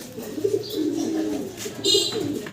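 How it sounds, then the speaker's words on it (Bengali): Pigeons kept in pairs for sale, cooing close by in a low throaty warble that rolls on continuously for a couple of seconds, with a faint chirp over the top. "চলো দর্শক আরো এক জোড়া চমৎকার কবুতর দেখতেছি"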